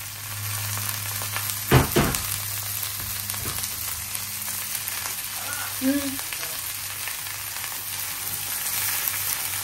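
Vegetables with green chillies fry in a pan, a dense, even sizzle close by, with a couple of sharp stirring knocks early on and a brief soft bubbling pop midway.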